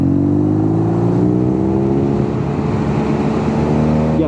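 A 2022 BMW R nineT motorcycle engine revs steadily high and loud for several seconds, a smooth rising drone with wind rush while riding on the road, no voices over it.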